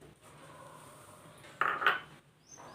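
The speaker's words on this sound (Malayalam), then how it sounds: "ഒരു 3 തക്കാളിപ്പഴം മുറിച്ചത് ഒരു മിക്സിയുടെ ജാറിലോട്ട് ഇട്ട് കൊടുക്കുക." Three cut tomatoes drop into a mixer grinder jar for tomato rasam, giving a short clatter of the jar and lid after a quiet kitchen pause, with no voice.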